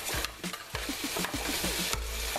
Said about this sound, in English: we're gonna add our oxtails that we browned up earlier directly to the pan